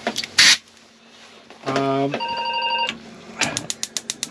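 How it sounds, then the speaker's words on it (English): A telephone rings inside a motorhome being repaired at a dealer's workshop, a bright electronic ring sounding over about a second amid clanks and workshop noise, with people talking nearby. "that could be a phone call."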